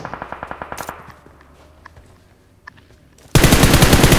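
Automatic gunfire in PUBG Mobile during a solo battle royale finals match: a rapid rhythmic burst of shots up front, a lull with scattered faint pops, then a sudden loud sustained volley at close range.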